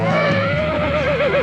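A stallion neighing, a loud, close whinny with a wavering, quavering pitch that shakes toward the end, heard alone.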